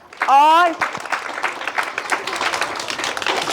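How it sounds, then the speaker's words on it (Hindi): An audience at a gift-giving event for children at a shelter home breaks into scattered, fairly faint clapping just after a brief spoken voice, and the clapping continues steadily to the end. "तालियां बजा दें।"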